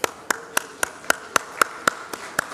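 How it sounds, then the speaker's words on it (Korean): A small church audience gives a few slow, evenly spaced claps, about ten sharp hand strikes roughly a quarter second apart, fairly close and clear with no talk over them. "자, 박수하겠습니다."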